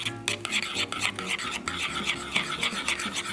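Minced onion, chili and squeezed lime juice are stirred briskly in a bowl, a close, steady scraping and rubbing with rhythmic strokes, no talking.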